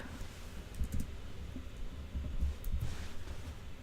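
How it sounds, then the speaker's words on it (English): Typing on a computer keyboard: soft, irregular clicks and taps scattered over a few seconds, fairly faint against a low room rumble. "I literally just have to type"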